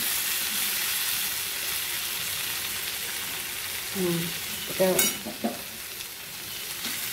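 Fritters and potatoes fry in oil with a loud, steady close-up sizzle throughout, joined near the end by a few brief stirring clatters and a short spoken word.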